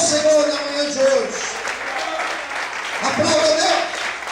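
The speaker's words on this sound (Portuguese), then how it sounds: "aplauda o Senhor na manhã de hoje" A church congregation claps during a Sunday morning service, a mid-level wash of hands with voices talking and calling out over it.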